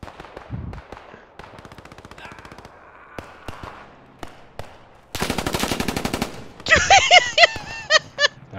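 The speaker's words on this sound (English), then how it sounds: "That was an FG shooting at you, apparently." FG42 rifle fire in the Post Scriptum war game, a rapid automatic burst of sharp cracks followed by louder clustered shots and ringing distant gunfire, with scattered single shots earlier.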